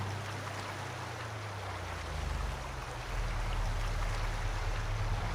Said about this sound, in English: there's quite a loud running water noise